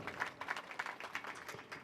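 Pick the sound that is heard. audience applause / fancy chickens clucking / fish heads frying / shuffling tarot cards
audience applause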